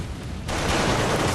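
Gunfire in the video game Bloodborne, a dense, continuous burst of shots that begins suddenly and stays loud and sustained to the end.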